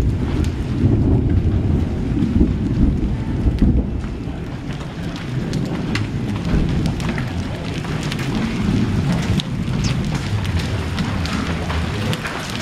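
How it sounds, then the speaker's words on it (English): Hail and heavy rain pelting down during a severe June storm, viewed from an open garage: a dense, steady roar of impacts with wind buffeting the microphone, sustained throughout with scattered sharper hits. "Hey, hail's coming down."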